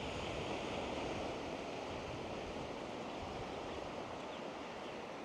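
Waves at Ao Manao beach in Thailand, heard as a continuous broad wash of surf, steady and moderately loud, with no voices.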